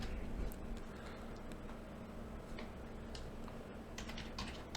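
Steady computer keyboard typing, a quick run of light key clicks with irregular rhythm and a few sharper taps, close and fairly clear over faint room hiss, no talking.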